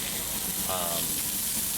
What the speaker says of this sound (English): there is a batter that you, I guess, pour, which is egg-based